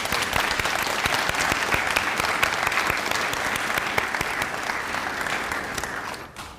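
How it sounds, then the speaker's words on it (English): An audience at a staff awards ceremony gives a loud, sustained round of applause, dense clapping that carries on steadily before tapering off at the end. "So huge round of applause for Ashkan."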